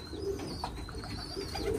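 Pet pigeons coo in soft repeated low calls from a nearby loft, several birds overlapping in a gentle rhythmic murmur, with a faint high chirp running through the background.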